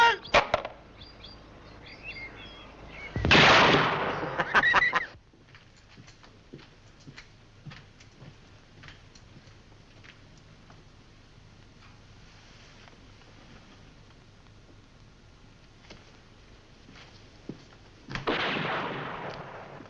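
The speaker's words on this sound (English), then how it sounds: "Sounds like a shotgun." A shotgun fires in a 1960s spy adventure drama, a sharp burst with a brief ringing tail followed by quieter clattering; another loud noisy burst comes near the end, with no talking.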